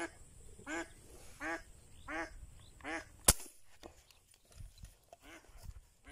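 Duck, a domestic itik, quacking in a series of about five clear, evenly spaced honks, fairly close, outdoors near water where fishing is going on, with one sharp knock in the middle and quieter scattered calls after.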